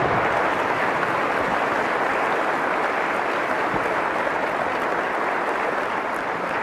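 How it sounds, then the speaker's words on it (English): A hall full of people at West Virginia's State of the State address breaks into sustained applause for Harold Ward, secretary of the DEP, a dense, even wash of clapping throughout. "So, now you can give him a great round of applause"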